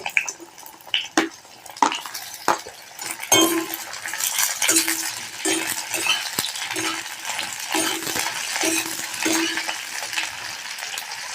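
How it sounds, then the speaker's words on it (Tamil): Okra sautéing in hot oil in a pan, opening with a few sharp clinks of a spoon against metal, then a sustained sizzle with repeated scraping stir strokes, close and moderately loud. "இப்போ வெண்டைக்காயை வதக்கிக்கலாம்."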